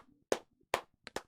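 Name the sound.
audience clapping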